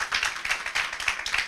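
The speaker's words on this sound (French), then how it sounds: "On va l'applaudir" Brief scattered hand clapping from an audience at a health event recorded for a radio program, a short burst of applause without talk.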